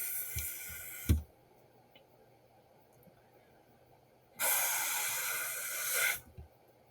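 High pressure rocker panel blaster at a car wash, heard as two loud, close hissing sprays, one brief near the start and one steady burst of about two seconds later.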